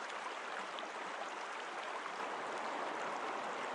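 A river stream flows steadily in a continuous, broad watery rush with no pauses, close and even in level throughout.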